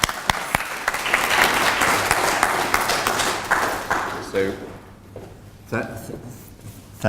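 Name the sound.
audience applause at book launch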